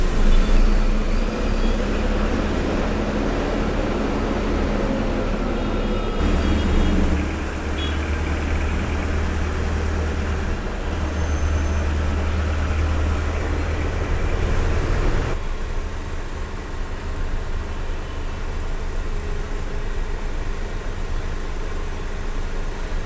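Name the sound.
heavy rush-hour road traffic heard from a bus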